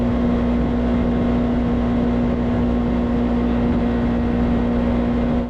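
A side-by-side off-road vehicle drives along a trail, its engine holding a continuous, loud, steady drone with a strong hum and rumble that never lets up.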